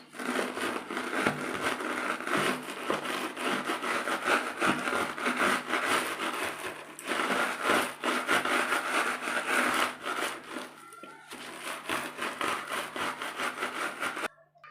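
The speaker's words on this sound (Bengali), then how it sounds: "বিস্কুটটা গুঁড়ো করে নিচ্ছি" Oreo biscuits with the cream removed are crushed into crumbs for a yogurt fruit dessert. Quiet, steady grinding and crunching goes on in long bursts, with brief pauses between them.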